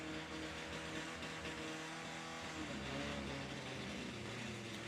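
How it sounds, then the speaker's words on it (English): A brand new drag racing motorbike idles high at a drag racing meet, a steady, continuous engine drone with a constant loud rumble and no pauses. "Does sound like it's idling quite high."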